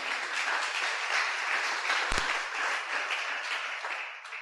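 A church congregation applauds, a distant, even patter of many hands heard at low level for several seconds, with a brief sharp knock near the middle.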